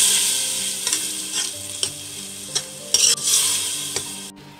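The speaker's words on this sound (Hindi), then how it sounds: "इसको मैं अब थोड़ा सा भूनूंगी।" Masala for Landi Kotal bhuna gosht is stirred and fried in a pan, with a steady close sizzle broken by repeated scraping clicks of the spoon and a louder scrape near the end, and no talking.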